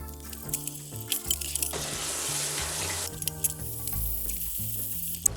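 Vegetable wash sprayed over perilla sprouts while they are being cleaned, heard as a steady hiss lasting over a second, set against background music.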